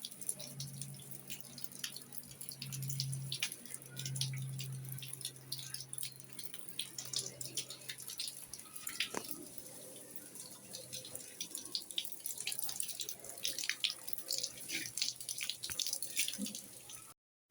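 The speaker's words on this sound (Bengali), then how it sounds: "এই যে এখানটা বের হয়ে যেতেছে ছাদ থেকে পানি।" Rainwater drains off a building roof in a steady, continuous trickle with scattered drips, moderately close and fairly quiet.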